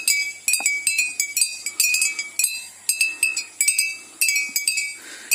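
Beer bottles hung in a crop field to scare off elephants and wild boar clink together in irregular bursts of bright glassy chimes, several quick knocks per burst, up close with quiet gaps between.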